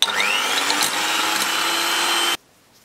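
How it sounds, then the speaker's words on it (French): Egg whites are beaten with an electric mixer for a chocolate trampoline cake. The motor whirs steadily and loudly at close range for about two seconds, then cuts off abruptly into near silence. "Ici, je récupère le blanc d'œuf et on va pouvoir le fouetter"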